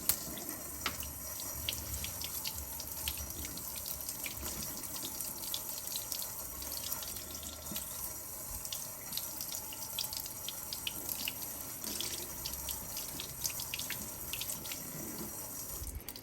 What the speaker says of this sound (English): So I'm going to rinse this off. Rinse the brush off as well.